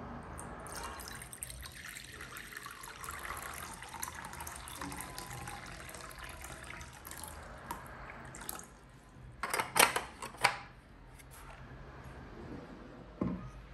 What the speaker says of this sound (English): So I would want you to listen to the sound of water.